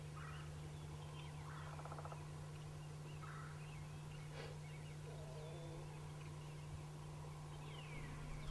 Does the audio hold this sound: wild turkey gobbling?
yes